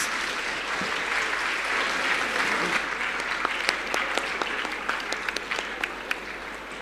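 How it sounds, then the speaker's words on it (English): Applause from the audience at a panel discussion on electric mobility: dense, steady clapping that thins toward the end into scattered individual claps, heard from within the hall. "A huge round of applause once again."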